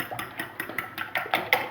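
Seven eggs are beaten in a bowl for a potato and onion omelette, a quick, even run of light metallic clinks about five per second, close and distinct with no talking.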